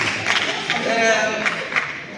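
Applause from a crowd at the opening ceremony of a district school taekwondo competition: a steady, dense patter of many hands clapping at moderate loudness, with a few sharper claps standing out.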